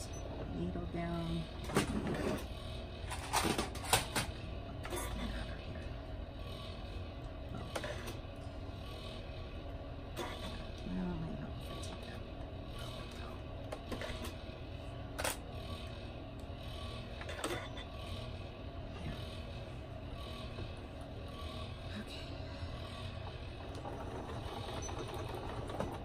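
A sewing machine stitches around a quilted car seat poncho with the needle down, its motor running in steady bursts close by while someone talks over it.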